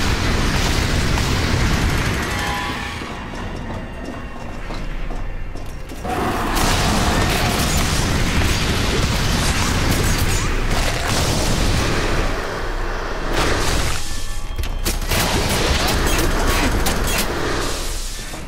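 Gunfire and explosions in the shooter F.E.A.R. 3 during co-op play, a dense, loud barrage of booms and rapid shots that runs almost without a break, with occasional short dips.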